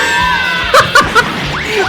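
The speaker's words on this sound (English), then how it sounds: "The classic scream." A classic cartoon scream sound effect from a Wile E. Coyote versus Tom the Cat matchup, short piercing yelps rising over ongoing background sound, loud and close.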